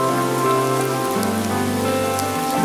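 Steady rain falls during a drive around a mountain on Miyajima, forming a dense, even hiss that stays loud and continuous throughout, with a low tonal hum and a shifting pitched drone beneath it.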